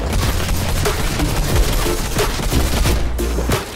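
Rapid gunfire from a video game shooter crackles in dense bursts, loud and continuous with sharp booming shots, no talking over it.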